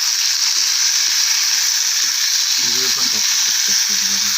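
Sliced capsicum stirred and sizzling in a hot pan for a salad, a steady bright frying hiss throughout with faint scraping stir sounds joining in toward the end.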